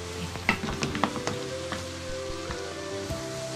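Onions frying in oil for beef tripe bhuna give a continuous sizzle, with sharp clinks and scrapes from stirring early on, close by and with no talking.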